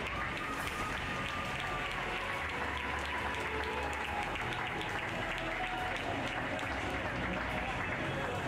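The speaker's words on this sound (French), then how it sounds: "Et vous pouvez applaudir encore plus fort." A crowd applauds the French champion at a pony show-jumping prize ceremony, a continuous outdoor round of clapping that carries steadily throughout, with a voice faintly audible over it.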